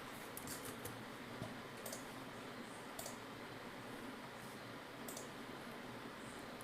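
Keyboard typing while entering code for a Django e-commerce project, a soft steady patter of keystrokes with a few sharper clicks, close but quiet under a constant hiss of background noise.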